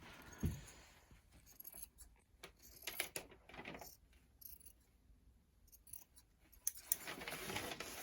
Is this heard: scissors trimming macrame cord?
yes